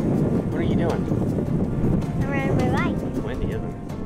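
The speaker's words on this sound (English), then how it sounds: "Windy, isn't it?" Gusting wind buffets the microphone outdoors after a cold front, a loud low rumble that holds almost the whole time and eases slightly near the end, while a voice speaks under it.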